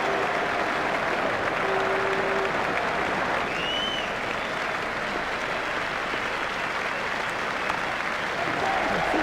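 Crowd applause in the video game Cricket 2002, rising for a half century in an India versus Pakistan match, a steady, even wash of clapping held at moderate level throughout with no voices on top.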